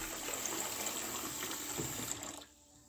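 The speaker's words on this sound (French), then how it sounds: "je vais mettre de l'eau" Water pouring steadily into a bowl in a kitchen while preparing white beans, a continuous splashing trickle that runs close and fairly loud for about two seconds, then cuts off abruptly.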